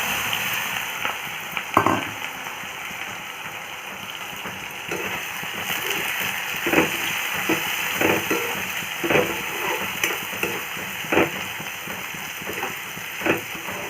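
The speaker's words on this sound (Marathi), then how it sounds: "कांदे छान परतून घ्यायचे" Onions sautéing in hot oil with whole coriander seeds, cumin, mustard seeds, asafoetida and curry leaves, a soft continuous sizzle with intermittent light stirring knocks throughout, no voices.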